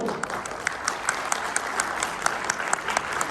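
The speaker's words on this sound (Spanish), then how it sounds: "pido un fuerte aplauso, por favor" Audience applause for a speaker introduced at a panel discussion on pretrial detention in Puebla, a steady wash of many hands clapping throughout at moderate volume, with no talk over it.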